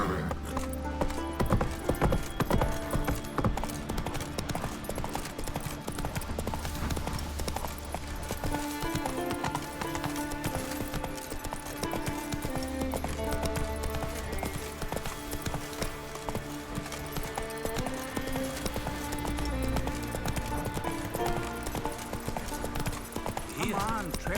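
Roach, a horse in The Witcher 3 game, gallops with continuous rhythmic hoof clip-clops under game music and occasional talking voices.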